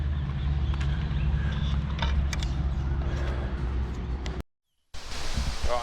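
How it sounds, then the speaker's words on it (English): Waterfall water feature beside the A1 road in Australia gives off a steady, close, full rushing wash of falling water, broken by a brief silent dropout near the end before resuming. "Sounds amazing to hear waterfalls again and see water."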